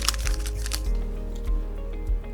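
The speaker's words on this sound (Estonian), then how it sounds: "Teeme nüüd testkassett lahti." A COVID-19 rapid test cassette package being opened, heard as faint crinkling and a few soft clicks and snaps over a quiet low hum.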